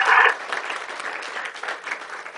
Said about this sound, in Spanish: Un aplauso al profesor.